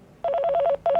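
A telephone rings in a quiet room, two bursts of a warbling electronic tone, a longer ring, a short pause, then a second ring starting, loud and close with no talking.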